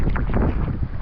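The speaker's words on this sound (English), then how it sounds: "This is ridiculous wind, weather." Strong wind of about forty miles per hour in heavy rain by the water during fishing, a dense, steady roar pressing hard on the microphone for a short moment, with no voices.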